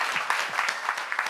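Audience clapping at a book concert in Seoul, a short burst of quick, fairly close handclaps of moderate loudness with no speech over it.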